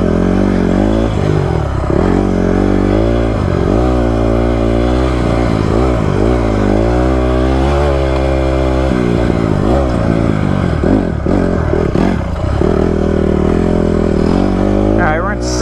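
A Honda CRF150R dirt bike is ridden across hot desert terrain, its engine loud and close and revving up and down continuously, with a rider's voice intermittently over it.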